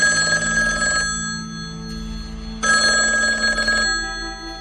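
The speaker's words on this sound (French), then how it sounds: "le téléphone sonne dans le vide" A landline telephone bell rings unanswered inside a small duplex apartment, two long ringing bursts separated by a short gap, loud and steady with no voices.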